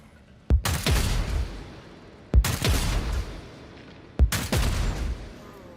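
Three bursts of gunfire at practice targets in the beta of the video game Warhammer 40k: Dark Heresy, each a sharp loud crack followed by a rolling, sustained rattle of shots, spaced about two seconds apart with no talk.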